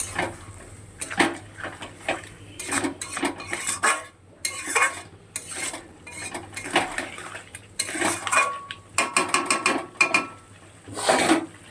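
Clattering pots, lids and utensils while a crab curry is being covered to cook, with repeated metallic clinks and scrapes in bursts, close and fairly loud, with no talk.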